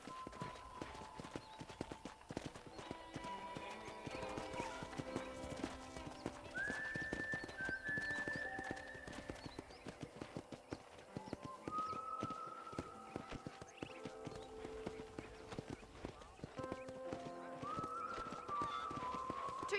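Steady clip-clop of horse hooves at a walking pace in Red Dead Redemption, with an occasional whinny and background music throughout.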